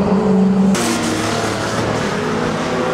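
Banger racing cars roar past at an unlimited bangers meeting at Mildenhall, with a loud engine drone that suddenly swells into a broad rush of noise from several cars on the track.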